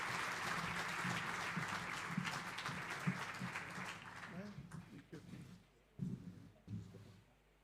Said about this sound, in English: Let's give DDG Meyer a round of applause, please